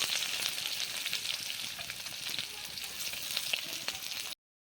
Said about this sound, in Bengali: এখন এখানে পেঁয়াজ কুচি দিয়ে দিচ্ছি